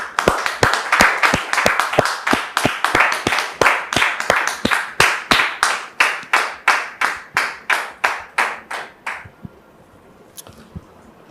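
Studio audience applause welcoming a guest on a French-language talk show: steady, loud rhythmic clapping in regular beats for about nine seconds, then it stops abruptly, leaving near silence with a single faint sound.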